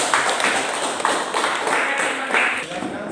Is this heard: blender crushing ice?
no